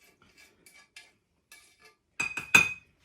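Utensils clink against a glass bowl while a buttery, sugary honey mixture for Katarzynki Polish gingerbread biscuits is stirred: faint scattered ticks, then three louder close clattering strikes near the end.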